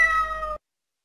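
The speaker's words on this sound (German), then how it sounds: "Das ist Meinzel, die Katze" A cat gives a single drawn-out meow, close and clear with no talk over it, ending abruptly and followed by silence.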